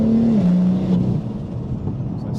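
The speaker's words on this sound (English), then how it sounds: "Mate, I'm tapping the throttle." Revving from a 700 hp single-turbo BMW M4 as the throttle is tapped: a loud, close engine note that holds steady, dips, then settles into a lower idle-like rumble, with no talking.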